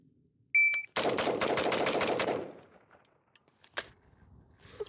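An LMT Defender 2000 rifle rapid-fired in a mag dump, a fast close burst of about ten loud shots lasting just over a second, followed by quieter scattered clicks and handling noises.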